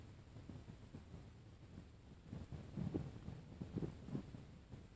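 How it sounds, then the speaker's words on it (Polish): Wind gusting outdoors beside a lake during a campfire breakfast, a faint steady rush with low buffeting rumbles against the microphone that swell a few times toward the middle and end, with no talking. "Na wietrze też wieje."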